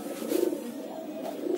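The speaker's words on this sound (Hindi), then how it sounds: "देखिए कबूतर, काले कबूतर है, पूरा पेयर है" Soft, low cooing of a nearby pair of black pigeons, a warbling throaty call rising and falling over a brief moment.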